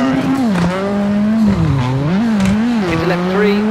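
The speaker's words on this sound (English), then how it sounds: "Oh, scrubbing that barrier." Rally car in the WRC 7 racing game, engine note rising and falling steadily with tire scrub and a grinding scrape against a barrier, loud and continuous throughout.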